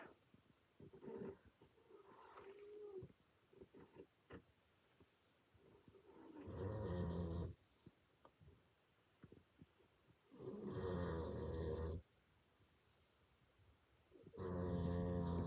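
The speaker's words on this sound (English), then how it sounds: "While you listen to the doggies snore" Dogs snoring, slow rhythmic rumbling breaths recurring every few seconds, quiet and close, with faint soft rustling between.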